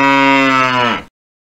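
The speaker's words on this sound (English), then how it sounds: "Where is the cow?" A single cow moo from a children's animal-learning app, a loud, close, drawn-out tonal call lasting about a second that cuts off cleanly into silence.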